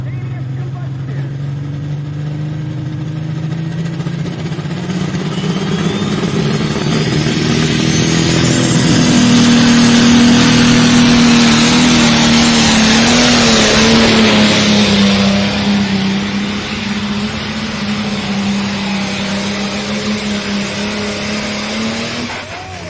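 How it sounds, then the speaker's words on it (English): Challenger 1038 pulling tractor with a Cyclone diesel performance engine making a tractor pull run, a loud sustained diesel roar that swells in pitch and volume mid-run then eases, with an announcer talking over it. "the Challenger 1038 with a Cyclone diesel performance engine"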